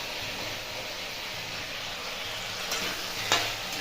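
Potatoes frying in a pan give a steady, even sizzling hiss throughout, with a couple of faint stirring clicks near the end and no talking.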